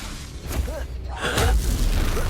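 Fire-spell blast from Hogwarts Legacy, a dull boom swelling in the second half under a voice and game sounds, moderately loud.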